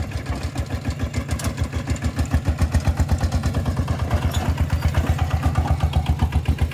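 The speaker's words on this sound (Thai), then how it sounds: "เดี๋ยวใส่รถไถถอยออกไปเนาะ" A walk-behind tractor engine running in a muddy, waterlogged field, a loud close pulsing chug with a fast steady rhythm throughout, no speech.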